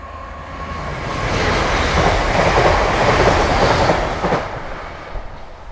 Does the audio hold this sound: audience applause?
no